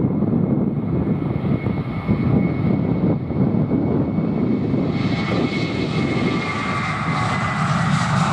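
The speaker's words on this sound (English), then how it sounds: "easyJet flight 2185, this one is bound for Belfast City." Continuous loud roar of an easyJet jet airliner at London Luton airport on a windy afternoon, broadband engine rumble and hiss holding steady with a brightening whine toward the end, heard alone without talk.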